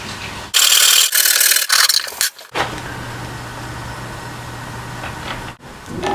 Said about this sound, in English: Now I'm going to cut the shelf, but I'm going to angle this a bit here to leave some material for the bolt holder.